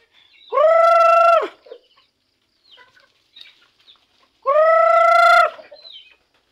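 Two loud, drawn-out calls about four seconds apart, sharp and harmonic like a crowing rooster, with quiet scattered clucks between them.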